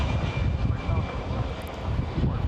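Airliner rolling for takeoff at Manila's NAIA airport, runway 24: a steady, loud broadband engine roar holding throughout, with wind buffeting on the microphone.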